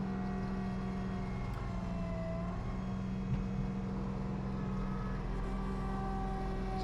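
A tractor running an auger snow blower churns through heavy, thick slush, giving a steady engine drone with a low hum and faint mechanical whine, continuous and moderately close, with no talk.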